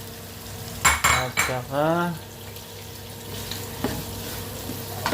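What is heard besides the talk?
onion, garlic, carrots and potatoes sautéing in a pot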